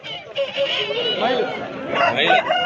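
A rooster crows amid the busy chatter of a Sunday poultry market in Pileru, with several voices haggling close by and bird calls rising over the crowd noise.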